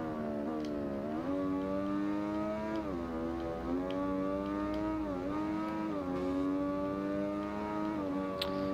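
A motorcycle engine in the racing game Ride 2 revs and accelerates, its whining pitch rising and falling through several throttle swells in a steady, loud run with no voices.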